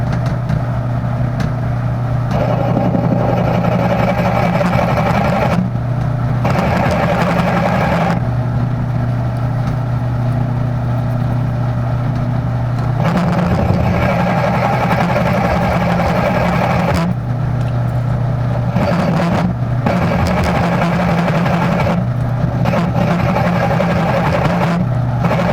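A milling machine takes a half-inch cut while building a mill bed fixture, giving off a steady close mechanical hum that pauses and resumes several times.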